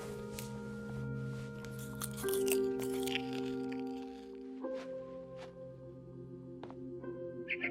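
Crunching and chewing from eating in the video game What Remains of Edith Finch, several crisp bites and chews set over sustained game music tones.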